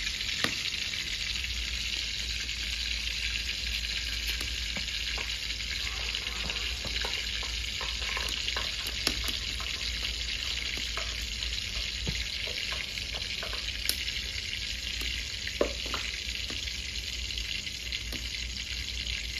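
Bay leaves fry in a small amount of mustard oil alongside onions cooked for a Punjabi chicken gravy, giving a steady, close sizzle with occasional faint clicks and no talking.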